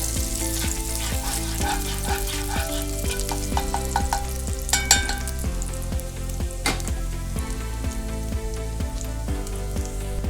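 Chopped garlic sautés in a pan, a close, dense crackling sizzle with scattered pops and a few spatula taps, alone and steady throughout, under a soft rhythmic background hum.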